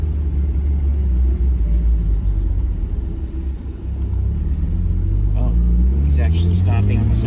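Another car comes up behind a Miata in traffic, heard from inside the cabin as a loud, steady road rumble that swells near the end, with a voice briefly joining.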